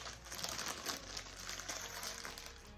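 A blade cuts into a comic book shipping package, a quiet, continuous crinkling and scratching of cardboard and packing material with faint rhythmic slicing strokes and no voices.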